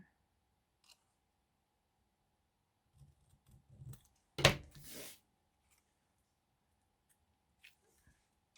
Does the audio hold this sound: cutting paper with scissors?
yes